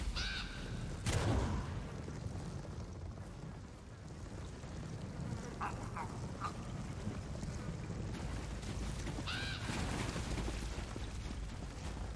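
Crows cawing in a scene from the video game Elder Scrolls Online, a few short harsh calls heard at moderate distance over a steady ambient wash, with no talking.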